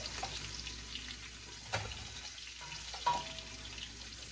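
Ginataang seafood with coconut milk, chayote and okra simmers and fries in a pot, giving a steady close hiss with a couple of soft clinks, and no one speaks over it.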